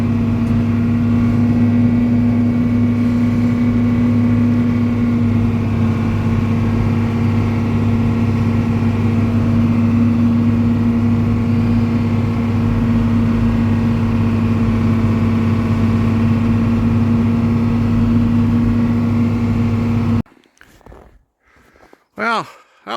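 A snowblower engine runs steadily and loud at close range, a constant droning hum with a strong low tone, then cuts out abruptly near the end, leaving brief faint noises.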